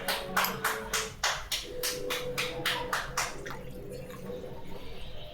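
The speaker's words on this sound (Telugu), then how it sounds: "మ్యాగీ ఉడకబెట్టడానికి వాటర్ వేసుకుంటున్నాను" Water poured into a cooking pot for boiling Maggi noodles, a steady splashing stream with repeated pulsing bursts that fade into a quieter trickle, close up.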